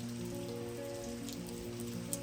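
Steady, dense rain hisses on surfaces close by in Buxton, a constant wash of drops with no pauses.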